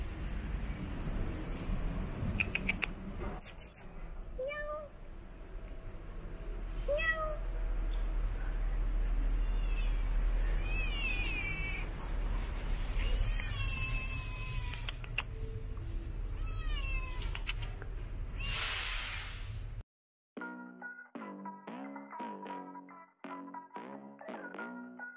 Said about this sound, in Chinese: 哇，有只小三花喵喵，